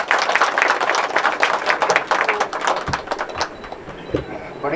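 Audience applause at a literary speech gathering, with irregular clapping from a modest crowd that thins out and turns patchy, broken by scattered individual claps and some background noise.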